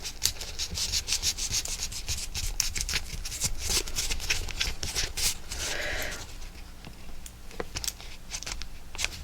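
Paper being burnished on a mixed media photo folio: a steady run of dry rubbing and scraping strokes, close and fairly loud, repeating in quick irregular passes with a brief smoother swipe partway through.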